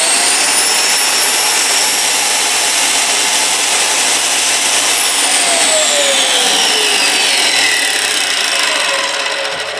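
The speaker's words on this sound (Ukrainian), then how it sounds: "Це значить, що ви можете включити плиткоріз. Він плавно запускається." A BIHUI 1200 (TCSA1200) electric tile cutter with automatic mode whose motor starts smoothly and runs, giving a loud, steady high whine and whir close by that holds for several seconds, with the pitch shifting slightly near the end.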